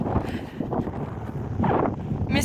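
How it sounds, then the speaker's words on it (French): Strong gusts of cold mountain wind buffet the microphone, producing a loud, rumbling roar that rises and falls over a couple of seconds. "Il fait froid, le vent souffle."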